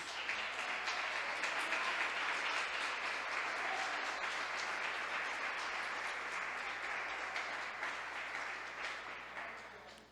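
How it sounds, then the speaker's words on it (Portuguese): A church audience breaks into sustained applause, a dense, steady wash of many hands clapping for about ten seconds before slowly tapering off, fairly distant and soft. "Vamos aplaudir a Jesus."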